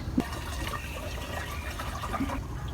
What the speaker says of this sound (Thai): แล้วก็เอาน้ำใส่ให้เต็ม